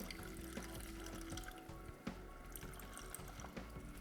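Tamarind water poured through a strainer, a faint, steady, continuous trickle and splash of liquid that stays quiet throughout.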